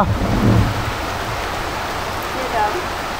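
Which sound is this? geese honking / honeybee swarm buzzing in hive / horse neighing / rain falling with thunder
rain falling with thunder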